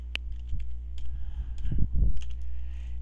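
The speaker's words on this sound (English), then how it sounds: "so we'll type in a name" Someone types a name on a computer keyboard at a golf game's startup screen: a few sparse key clicks, then a short quicker burst of typing, close, over a steady low electrical hum.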